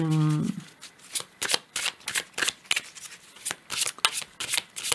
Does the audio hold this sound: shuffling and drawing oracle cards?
yes